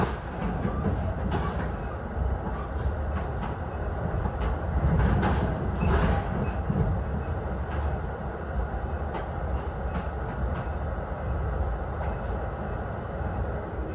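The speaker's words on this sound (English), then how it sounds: "Shortly before the stop at Laraway Road, our train crosses over the tracks of the Metra Rock Island District." Metra commuter train running on the tracks, heard from on board: a steady rolling rumble with rhythmic clacking over the rails and a brief louder surge midway.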